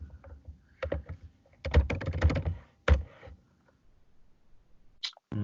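Someone types nonsense quickly on a computer keyboard, with clusters of close, crisp key clicks separated by short pauses and a last isolated tap.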